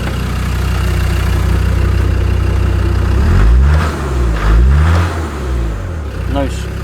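A Land Rover Discovery 2 engine with a failed AC clutch idles loudly, then revs up and down in several rising and falling sweeps, with odd whirring tones that come through close by.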